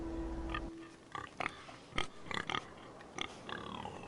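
A human voice imitates a pig with a string of short snorting oinks, spaced irregularly and fairly faint, after a brief tone at the start.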